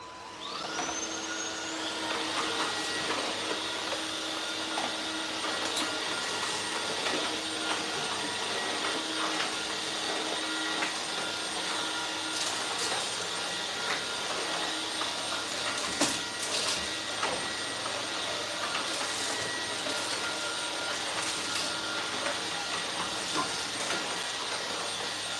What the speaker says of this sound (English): I am going to turn the vacuum on right now.